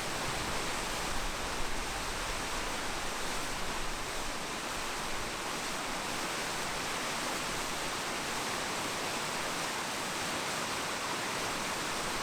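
A creek's waterfall in Utah, crossed by an off-road trail atop the falls, pours in a steady, dense broadband roar that holds unchanged throughout, close and continuous with no voices.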